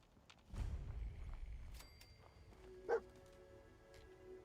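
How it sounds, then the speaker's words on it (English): In the video game Fallout 4, a dog gives a single short bark in the middle distance against a low rumbling game ambience. "That is a dog. That is not an enemy."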